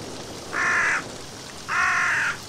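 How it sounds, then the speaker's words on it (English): Two loud, harsh caws come from a crow in the game Shutter Part 2. Each caw is prolonged and sounds close, and a short pause separates them over quiet, eerie background ambience. "Where the hell is this crow?"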